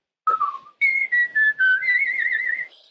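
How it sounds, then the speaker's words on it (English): A person whistles a lively song, a short run of clear, bright pitched notes with a few brief breaks, close and fairly loud, with no other voices. "So I had to whistle instead."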